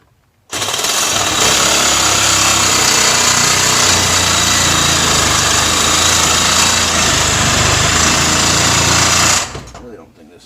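A power tool blade grinds steadily across an aluminium RBC intake manifold for an AWD Civic build, a loud, close, buzzing whine that starts abruptly, holds for about nine seconds, then cuts off.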